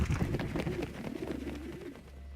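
Pigeon cooing in the video game Prey, a short series of soft, low coos repeating close by over a steady low background hum, with no talk.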